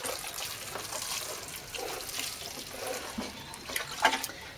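Water poured onto allotment soil before sowing sorrel seeds, a steady close splashing and trickling that runs throughout, with a brief brighter splash near the end.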